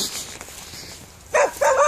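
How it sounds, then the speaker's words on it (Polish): A dog at abandoned allotment plots in Tczew gives two short, fairly close barks near the end, after a quieter stretch of outdoor background noise. "Kolejny głupi pies."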